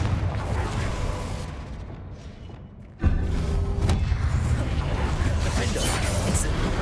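A Confringo blasting spell from Hogwarts Legacy bursts with a sudden loud boom partway through, then a sustained rumbling roar after a quieter magical buildup, with a voice calling out spells over it.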